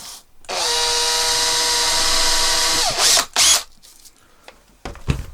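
An electric drill bores into a small whittled wooden bird, whining steadily for a couple of seconds at close range before slowing to a stop, followed by two short bursts and some handling clatter.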